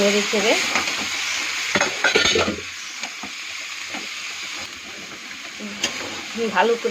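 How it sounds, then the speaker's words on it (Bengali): Chopped cabbage frying in a pan and being stirred: a loud continuous sizzle with scraping stir strokes, and a voice speaking briefly at the start and end. "এখন আমি কেটে রাখা বাঁধাকপিটা ঢেলে দেবো।"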